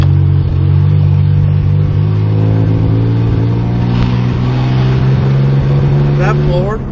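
A car engine revs steadily and loudly throughout in a sustained low, droning pull, its pitch holding fairly even rather than climbing sharply, with a voice speaking briefly over it.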